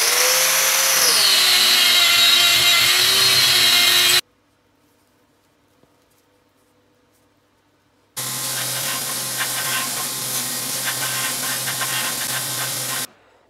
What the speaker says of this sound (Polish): Zaraz sobie te bloczki ładnie przeszlifuję